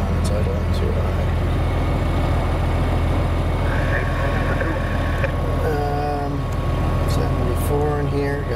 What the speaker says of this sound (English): It's idling too high.